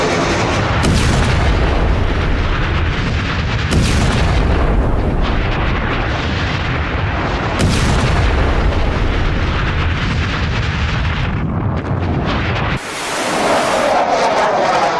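Heavy explosions from an Israeli attack on Hezbollah roll one after another in loud, dense booms and rumbling blasts, with almost no quiet between them.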